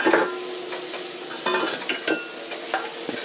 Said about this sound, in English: There's some bacon grease in there.